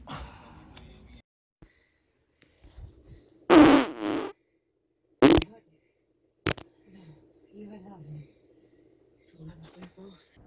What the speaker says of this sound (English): Name my fart.